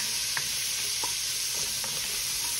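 Onions and celery caramelizing in a pot give a steady sizzle and crackle of frying, with a few soft stirring scrapes, alone.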